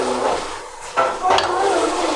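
Aloo chicken curry being stirred and fried in a pan, a loud continuous sizzle broken by scraping stirs and a clink of utensil against metal.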